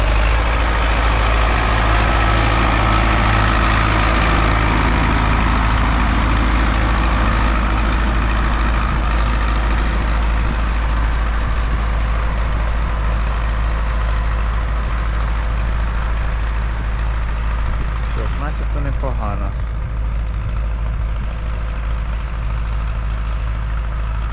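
YuMZ 8240 tractor engine pulling a plow through a buckwheat field in spring, a loud continuous low diesel drone with steady rumble, close and unbroken, with a brief rattling clatter near the end.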